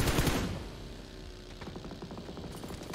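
An AUG rifle fires in PUBG Mobile, a rapid, steady rattle of automatic shots at moderate distance, preceded by a louder booming burst that fades into the continuing gunfire.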